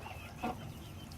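A chicken in a coop at night gives a single soft cluck against a quiet, low background.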